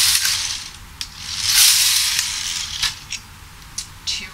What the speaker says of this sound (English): You go across and back with the lace carriage.